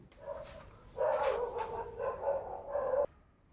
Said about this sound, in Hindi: अरे यार ये कुत्ते बड़ा परेशान कर रहे हैं भाई।